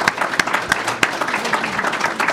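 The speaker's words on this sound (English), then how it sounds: "So give him a round of applause." An audience at a public forum on an Ohio drug price ballot issue claps steadily, a dense patter of many hands with a few sharper claps standing out, heard alone without talk.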